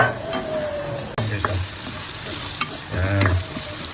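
Ginger, garlic, onion and tomato sizzling in a hot pan, a close-up frying hiss broken by spatula scrapes and a few metallic knocks against the pan, with no one speaking.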